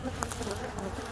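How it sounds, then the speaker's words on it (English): Angry honeybees swarm close around a suited beekeeper outdoors on a cold day near 40 degrees, their dense, steady buzzing filling the air with a few brief louder passes. "These bees are mean."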